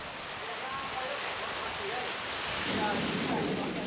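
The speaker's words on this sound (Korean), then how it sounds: "갑자기 굵어지는 빗줄기." Heavy rain hisses as a dense, steady roar outdoors during a cobra hunt in Vietnam, then suddenly swells louder and fuller as the downpour intensifies.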